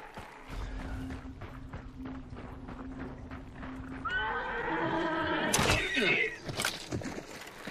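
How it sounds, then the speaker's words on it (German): A horse in the 1896 Hunt: Showdown game gallops with rapid clip-clop hoofbeats, then lets out a loud, drawn-out whinny near the middle before the hooves carry on; faint voices murmur underneath. "Pferdchen"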